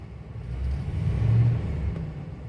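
Engine of a 1972 Lincoln Continental Mark IV with a new Edelbrock carburetor and Pertronix electronic ignition idles just after starting, a low, smooth, steady rumble with a slight swell, no voices.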